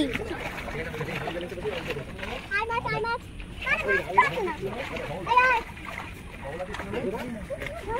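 Fish splash at the surface of a lake as people feed them puffed rice, biscuits and bread in the afternoon, with scattered near splashes and water movement under ongoing voices, including children talking.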